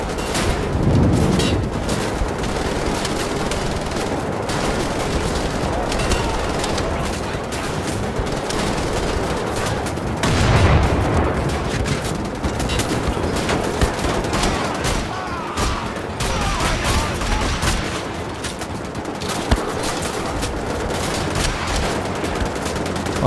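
Constant gunfire fills a battle in the video game Wolfenstein The Old Blood. Rapid automatic bursts and heavy booms overlap with little letup across the whole stretch.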